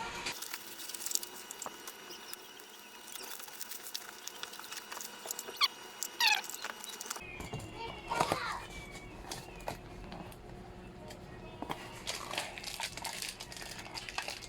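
An R20 motorcycle side mirror for a Mio i 125 is unwrapped from its package, with soft crinkling plastic and rustling handling noises close by. Faint background voices and ambient noise sit underneath.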